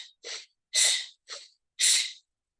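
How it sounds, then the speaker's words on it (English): Five short, forceful breaths in a breathwork exercise, alternating quick nasal inhales with stronger, louder mouth exhales, close and clear with silence between them. "it's going to be a short, powerful breath in through the nose, out through the mouth"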